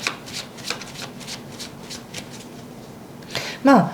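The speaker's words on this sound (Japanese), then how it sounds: "ちょっと補佐カード引いてみようかな。" Tarot cards riffled and shuffled in a series of soft papery bursts, followed by a sharper slap as a card is drawn, close and fairly quiet with a faint steady hum beneath.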